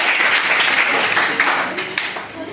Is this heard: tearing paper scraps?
no